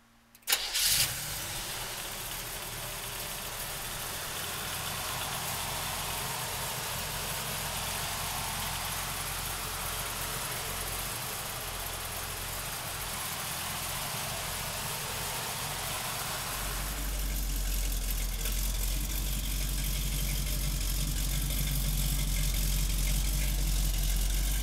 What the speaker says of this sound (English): So come on up and let's fire this little Camaro up.